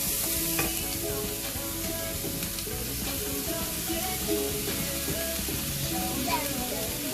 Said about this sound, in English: in a pan here I have some extra virgin olive oil, to which I'm just going to add in some onion, and I have some leek